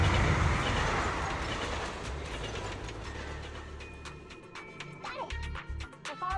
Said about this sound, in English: The train will soon pass.